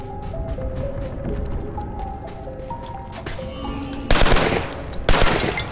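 Burst-fire AR06 rifle shooting in Lara Croft and the Temple of Osiris: rapid repeated shots crackle over game music, then two louder bursts near the end.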